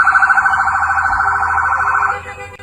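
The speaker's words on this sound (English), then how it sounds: "with sirens and lights blaring." Federal vehicle sirens wail loud and close, a steady warbling tone that holds for about two seconds before cutting off abruptly, with no talk over it.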